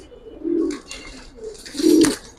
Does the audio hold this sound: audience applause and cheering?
no